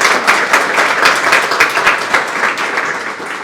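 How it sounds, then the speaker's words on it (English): Audience applause for the presenting sponsors Coggins Auto Group and Fidium Fiber at the 2025 Heart of the Shires gathering: steady, dense clapping from a crowd, fairly close and loud, fading slightly at the end. "Give them a round of applause."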